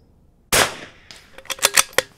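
A .22 rimfire rifle fires at a range target: one sharp, close crack, followed by a quick run of lighter clicks and clatters from the action and spent casing, then quiet.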